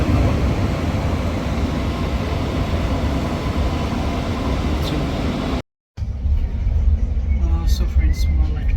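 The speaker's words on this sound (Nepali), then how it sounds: "म लाइट रेल चलिसक्यो" A Sydney light rail tram runs along, giving a steady broadband rumble of wheels and motor for several seconds. After a brief cut the interior sounds quieter, with faint squeals and clicks, and a voice talks throughout.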